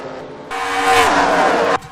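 In a Pokémon-themed stock car racing video game at Charlotte, race cars spin and hit the wall. A car's engine swells into a loud, rising roar for about a second, then cuts off abruptly.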